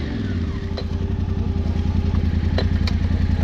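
Motorcycle engines run with a steady, throbbing mid-pitched idle and rhythmic clatter as the bikes set off on a rocky off-road trail in Sardinia, with a few sharp knocks over the top.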